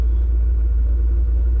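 Steady low rumble from a Maserati Ghibli Spyder 4.9 SS engine on the move, a loud, continuous drone with no voices over it.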